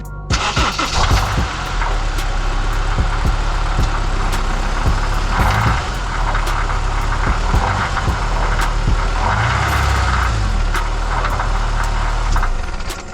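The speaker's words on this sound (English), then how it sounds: "Let me show you guys the sound the car is making right now from the catalytic." A car engine runs steadily with a rough, rumbling exhaust note from a faulty catalytic converter and a faint metallic rattle, loud and close throughout with no talking.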